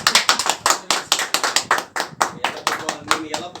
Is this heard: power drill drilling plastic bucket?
no